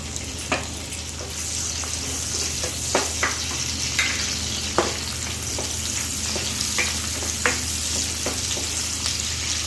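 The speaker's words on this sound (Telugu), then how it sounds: "ఇప్పుడు దీంట్లో బిర్యానీ ఆకు, పట్టా లవంగం వేసాక ఉల్లిపాయలు వేసుకుంటాము" Onions fry in oil with bay leaf, cinnamon and cloves for aloo kurma, an even close sizzle broken by repeated light spoon taps and scrapes, with no talk.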